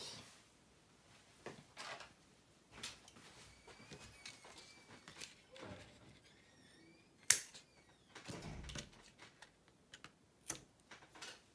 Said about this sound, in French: Et il n'y a plus qu'à couper.